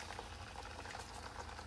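Handvo batter poured into a pizza pan of hot tempering with sesame seeds, mustard seeds and curry leaves gives a faint, steady, bubbling sizzle with no voices.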